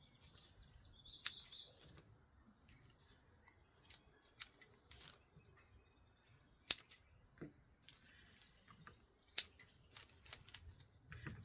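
Scissors snip through sprouted green onion stalks regrowing from kitchen scraps, giving sparse, sharp cuts at close range while faint birdsong chirps in the background.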